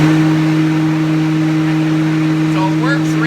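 A homemade dust collector blower motor running on 220 volts hums loudly and steadily with a constant low drone and whooshing air, close by, with faint rising tones near the end.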